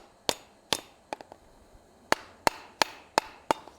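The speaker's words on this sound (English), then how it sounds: "I'm using a rawhide mallet." A rawhide mallet strikes hot steel on an anvil during forging, about nine sharp, irregular blows, some in quick pairs, close and alone in a quiet workshop.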